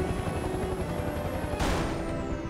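Helicopter in the Mercenaries 2: World in Flames video game, a steady rotor and engine drone held loud and close throughout, with a brief rise in hiss partway through.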